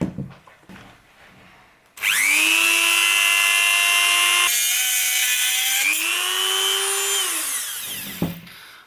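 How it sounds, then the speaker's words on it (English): A Dremel rotary tool whines at high pitch as it cuts through an airsoft AEP gun barrel, spinning up sharply and holding a loud, steady scream for about six seconds, with its pitch dipping under load before it winds down. "now we make the pretty cut with the Dremel."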